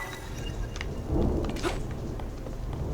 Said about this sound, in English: Sorry if you can hear the thunder in the background.